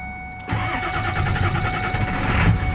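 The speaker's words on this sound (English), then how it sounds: "Now, I'm going to go ahead and I'm going to start the engine." A late-1999 car engine with a slow-start issue cranks briefly and then catches, settling into a steady, close mid-pitched idle with a slight rise near the end.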